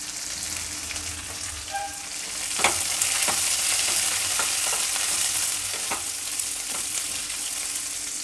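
Curry leaves fry and are stirred in hot oil alongside cumin and sliced onion, a close steady sizzle broken by a few scraping stirs, with no talking.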